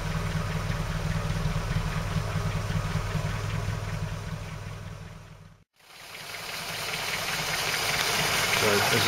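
A Land Rover Series engine fitted with an SU carburettor idles close by with a steady low rumble and knocking throb, cutting out briefly midway before the running sound returns.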